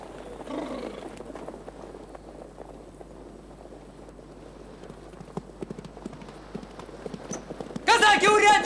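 Horses clip-clop at a steady pace through a Cossack scene in a 1978 film, hooves thudding under talk and background noise, with louder clatter rising near the end.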